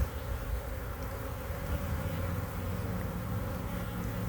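Honey bees buzz around an open hive while brood frames are inspected, a dense, steady droning swarm close by with no pauses throughout.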